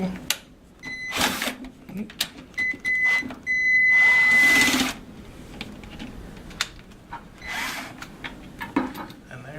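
Screws are backed out of a Jabsco manual toilet pump assembly with a powered driver, sounding as short whirring bursts and one longer run between clicks and handling noises, while a person talks.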